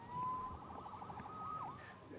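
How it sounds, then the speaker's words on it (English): A police siren wails in the Spider-Man video game, its tone rising and falling faintly against steady background game ambience. "Saved by the siren."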